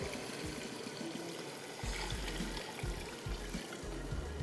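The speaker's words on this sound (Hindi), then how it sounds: "अब इस पोजीशन में और इस स्टेज पे इसमें जाएगा पानी" Water is poured into a pot of rice in a home kitchen, a steady faint splashing pour running for several seconds with no talk.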